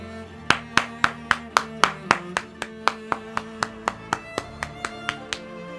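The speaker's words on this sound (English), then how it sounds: "I'm clapping for the person who did well." A single person claps hands in a steady run of about twenty sharp, close claps, slowing slightly toward the end, with a faint tonal background underneath.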